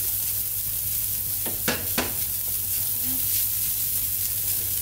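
Grated coconut being stirred into a fish curry masala in a pan with the flame just turned off, for a Kerala restaurant-style fish curry; a steady soft sizzle runs throughout, with two short scraping stirs near the middle.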